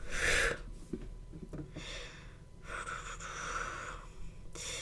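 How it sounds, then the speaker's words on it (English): Heavy breaths, with sharp inhales and snorting exhales close to the mic, coming in uneven bursts over a quiet background hum, during Hurricane Beryl in Cancun. "if I'm breathing heavy"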